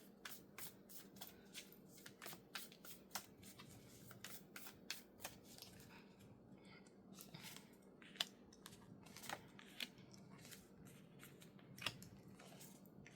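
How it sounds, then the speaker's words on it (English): Cards are handled and drawn from the top of a deck, a quiet series of crisp, irregular flicks and snaps close by, some sharper than others, with soft rustling between them. "I'm just going to take the cards from on top of the deck"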